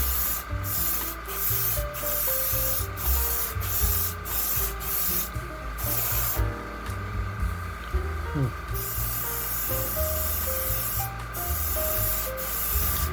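A Bucasso airbrush hisses in a broad continuous spray with intermittent sputtering spatter, broken by short pauses and a longer gap midway, with soft background music underneath.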